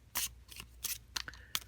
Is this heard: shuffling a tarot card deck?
yes